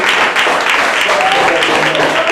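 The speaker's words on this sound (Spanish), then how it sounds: "Dale un aplauso a la palabra de Dios." A congregation applauds during a Spanish-language church worship service: a dense, steady wash of clapping that holds loud and even for the whole stretch, with voices mixed into the crowd noise.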